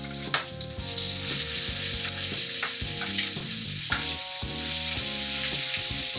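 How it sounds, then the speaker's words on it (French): Bacon frying in a pan for linguini carbonara, a loud steady sizzle as strips are turned, with soft utensil taps under background music. "on va tourner le bacon."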